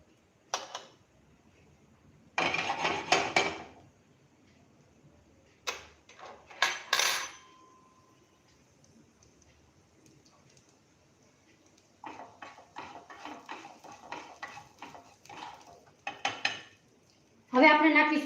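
Cumin seeds go into hot oil in a pan and are stirred, giving sharp bursts of spoon-on-pan clatter and scraping separated by quiet gaps, close and fairly loud, with no talking.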